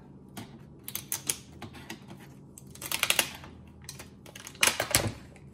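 Black plastic is peeled off an LCD monitor circuit board, giving close, faint, irregular crackles and sharp snapping ticks in scattered clusters.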